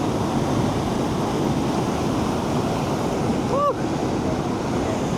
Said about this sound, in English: this is a cute little fall